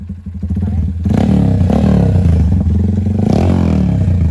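A racing motorcycle engine idling with a lumpy beat, then revved hard for a loud, sustained roar with a few rises and falls, heard close up with no talk.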